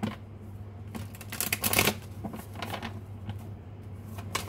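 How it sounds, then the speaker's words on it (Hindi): Tarot cards being shuffled by hand during a reading, giving a soft riffling flutter that swells to a brief louder burst midway, then continues as a quieter papery rustle over a steady low hum. "तो मैं कार्ड्स को शफल कर लेती हूँ, फिर आपको बताती हूँ।"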